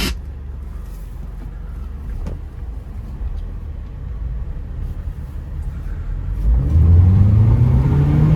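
A 200 HP Honda Accord accelerates on a test drive, its engine note steady at first, then rising in a loud sweeping climb as the car pulls harder in the final seconds.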